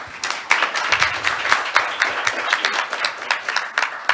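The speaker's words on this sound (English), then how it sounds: "please welcome him with a big round of applause" Conference hall audience applauding a speaker's introduction, a moderate round of individual claps with distinct sharp hits, fairly close and sustained, with some talking underneath.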